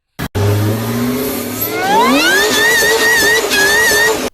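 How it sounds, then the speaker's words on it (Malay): A supercharged car engine idles, then revs up hard with a rising supercharger whine, climbing in pitch and holding high and loud, close to the microphone. "Supercharger secara umumnya adalah air compressor, iaitu pemampat udara yang mengeluarkan bunyi."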